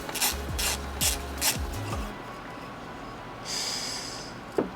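A torque wrench ratchets on the intake bolts of a Volkswagen MK8 Golf R, giving several short close clicking bursts, then a quieter stretch with faint hiss and a final sharp click.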